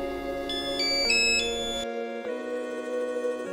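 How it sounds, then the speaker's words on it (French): Cookeo multicooker giving a clear electronic start-up chime as it is switched on, a few bright tonal beeps stepping in pitch over a steady hum, close and alone. "J'allume le coquéo."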